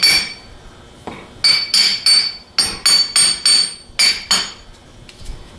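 A hammer taps an armature bushing held in a vise while building a 42MT starter: about ten sharp, ringing metallic strikes, close and loud, in uneven bursts with short pauses, no talking.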